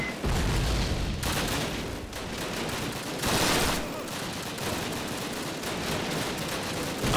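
Rapid automatic gunfire from a high-capacity weapon firing pistol-type rounds in Call of Duty, loud sustained bursts with booms, and a player's voice occasionally talking over it.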